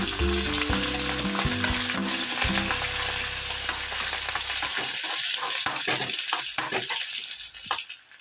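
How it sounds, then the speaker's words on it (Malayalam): Dried red chillies frying in hot oil for a pumpkin curry, stirred in the pan: a loud continuous crackling sizzle, with a low hum that cuts out partway through as the popping turns sharper and more scattered. "ഇനി രണ്ടൂന്ന് വറ്റൽ മുളക് ഇട്ട് കൊടുക്കുന്നുണ്ട് ഇളക്കി കൊടുക്കും"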